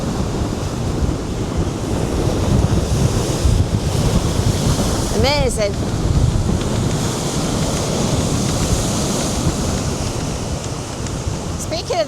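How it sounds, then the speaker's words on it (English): Waves crash and surge against the wave breaker blocks on the beach at Cleveleys, near Blackpool, on a blustery day. A continuous roar of surf runs under heavy wind buffeting on the microphone, and one brief spoken word rises over it. "bashing against the wave breaker blocks, and then they're walking up to the beach at Cleveleys"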